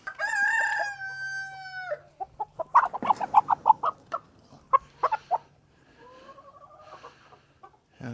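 A rooster crows at the start, then chickens cluck in a rapid, uneven series of close, sharp calls, with another crow trailing near the end.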